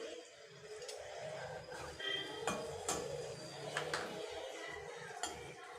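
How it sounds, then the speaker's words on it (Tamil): A spoon stirs okra and potato fry with masala in a pan, giving soft scraping and intermittent metallic clinks against the pan, close and moderately quiet over a low background hum. "இப்போ நான் கரண்டியை மாற்றி மிக்ஸ் பண்ணிக்கிறேன்"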